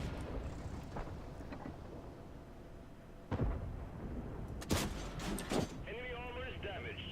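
Tank cannon fire in World of Tanks, several sharp booming shots and impacts over game ambience, with players talking over the action.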